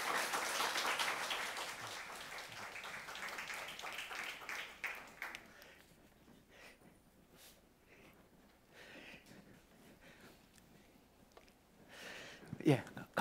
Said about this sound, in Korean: 박수로 우리 강사님을 모시도록 하겠습니다